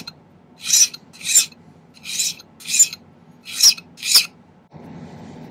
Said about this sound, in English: On the edges of this, I usually file it down so it's not quite come to such a sharp edge.